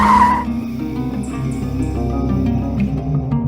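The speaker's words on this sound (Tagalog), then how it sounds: "Mabilis na natapakan ni Marshall ang preno matapos may biglang tumawid na tao" Car braking hard as a person suddenly crosses, a loud sustained tire screech that holds through the whole moment at close range, with no talk.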